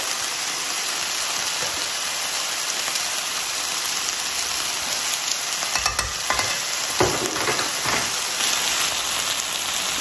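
Three garlic cloves fry in a pan, giving a steady close sizzle with a few clinks and stirring scrapes partway through.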